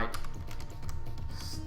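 Rapid keystrokes on a computer keyboard, a steady run of close, crisp clicks with no talking, typed while entering a start command for a tic-tac-toe game written in Erlang.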